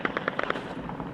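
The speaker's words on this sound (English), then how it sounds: "Look at all that gunfire that's going around." Gunfire in footage from Syria crackles in a quick run of about six sharp distant-sounding shots, then fainter scattered pops trailing off over a hissing background.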